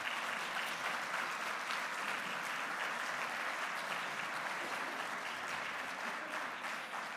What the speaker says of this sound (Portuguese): É a vossa vez de dar um grande aplauso para eles